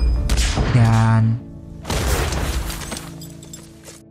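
A grenade blast from a war film about Japanese defences in WWII, a single loud boom bursting out and then a second broad crash rumbling away, with a voice speaking over the start.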